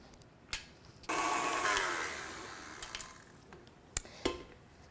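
An electric mixer churns eggs and vanilla extract into snickerdoodle cookie dough in a bowl, whirring loudly for about a second and a half before tapering off, with sharp clicks and taps before and after.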